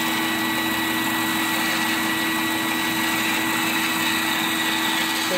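A bandsaw slowly cutting a wooden lampshade makes a loud, steady whir, a continuous machine drone with a constant tone and no breaks or voices.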